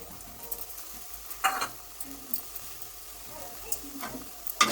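Onion and ginger paste frying in oil in a home kitchen pan gives off a faint, low sizzle with a few soft stirring clicks and scrapes, quiet throughout.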